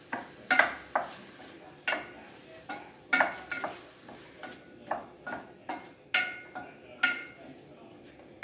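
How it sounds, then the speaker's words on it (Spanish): Garlic fries in a pan under repeated clanks and scrapes of a utensil stirring against the metal, a light sizzle beneath, close and intermittent, with some speech. "Vamos a echar ahí los ajos también para que se vayan asando."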